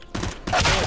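Rapid automatic gunfire rattles in a round of CS:GO, a loud close burst of shots that grows denser over less than a second.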